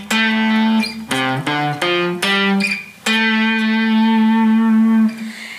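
Electric guitar playing a riff, a quick run of separate picked notes with a bend, then a long held note that rings and fades, clear and upfront with no talk.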